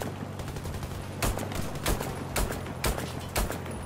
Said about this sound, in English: I'm shooting this man in the head!